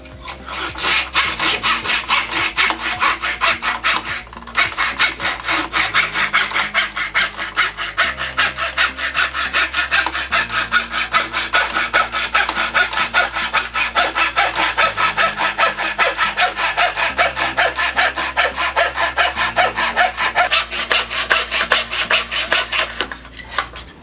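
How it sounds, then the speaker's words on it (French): A classic hand saw fitted with a sawing guide cuts through wood with steady, rapid back-and-forth strokes, loud and close, continuing without pause. "Je vais vous montrer maintenant l'utilisation sur une scie classique du dos rapporté."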